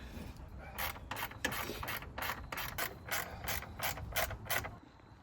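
Quiet ratchet clicking in quick bursts of about a dozen strokes as the last screws are tightened during a car repair, steady and close with a faint background hiss, no talking.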